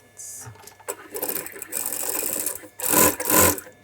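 A sewing machine stitches a quarter-inch seam on a bespoke shirt in a London shirtmaking workshop, running in several short whirring bursts separated by brief pauses, the last two bursts loudest.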